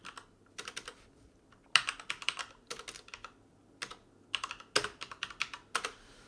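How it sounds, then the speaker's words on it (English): Rapid clattering keystrokes on a computer keyboard in irregular bursts, close and fairly quiet, with brief pauses between flurries. "I know you guys can hear me typing."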